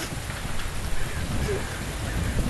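Steady rain pours in the video game The Invisible Hours, a dense continuous hiss with low rumbling underneath, close and even throughout.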